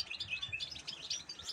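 Goldfinch and its chicks chirping in a cage, a faint, steady stream of quick high-pitched tweets and twitters running throughout with no voices.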